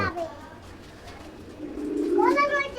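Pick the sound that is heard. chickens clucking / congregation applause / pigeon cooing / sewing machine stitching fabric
pigeon cooing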